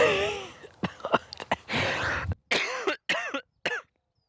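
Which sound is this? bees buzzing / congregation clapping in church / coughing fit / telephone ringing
coughing fit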